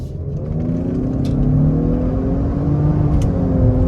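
Tuned Lincoln Aviator running about 23 psi of boost, accelerating hard with firm gear shifts; a loud, steady engine roar and whir that climbs in pitch close by, with no talking.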